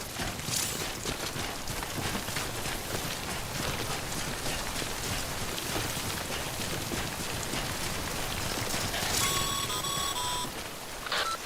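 Timefall rain in the video game Death Stranding makes a steady, dense patter close by. Near the end, brief electronic beeps sound over it.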